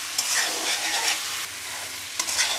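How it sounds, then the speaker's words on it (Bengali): Rohu fish curry with bitter gourd and potato being stirred in a hot pan, giving a loud, steady sizzle broken by a couple of sharp scraping strokes from the spoon. "হালকা একটু পানি দিয়ে মিক্স করে নেব।"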